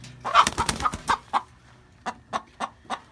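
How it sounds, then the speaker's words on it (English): A rooster inside a coop gives a run of loud, close clucks and squawks in quick succession, then a pause before four more evenly spaced calls. "See if we can get this one bird to not be so loud."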